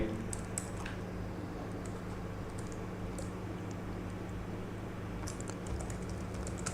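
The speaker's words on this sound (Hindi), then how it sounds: "नाम देने के बाद जो यहाँ पे मैंने टाइपिंग की" Rapid, steady typing on a computer keyboard while naming a presentation and adding slides, with close, dense key clicks running continuously under a low background hum.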